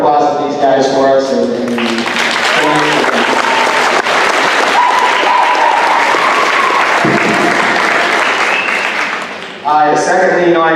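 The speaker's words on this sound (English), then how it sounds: "just really give a round of applause to these guys for us" Crowd applause for a high school homecoming court at a coronation, a sustained roar of clapping with cheering that swells in the middle, with talk and amplified voice at the start and end.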